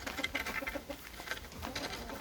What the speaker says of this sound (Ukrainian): Курочки гуляють.